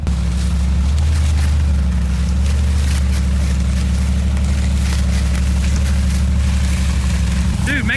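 A 2022 Mercedes G63 G Wagon crawls over an obstacle in rock mode, its engine giving a steady low rumble that holds throughout at a loud, close level, with a brief higher whine near the end.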